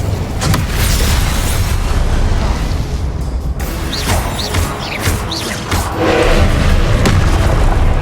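Confringo fire spells explode in the video game Hogwarts Legacy, loud booming blasts and crashes going off in quick succession, with whooshing spell sounds layered between the hits.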